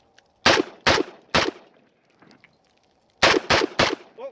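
Century Arms VSKA AK-47 rifle firing outdoors, six loud sharp reports in two groups of three with a faint weaker shot in the gap between them, no talking.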